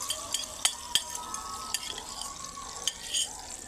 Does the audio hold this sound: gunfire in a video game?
no